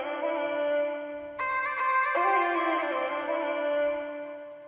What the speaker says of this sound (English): I just use a UAD Reverb Echo just to get some delay going on.